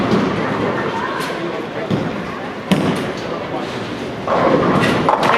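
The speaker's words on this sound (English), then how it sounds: "And Joe makes a great spare" Bowling ball rolling down a lane at AMF Garden City during a shootout final, a steady low rumble that breaks into a sharp clatter of pins for a spare, followed by lingering lane noise.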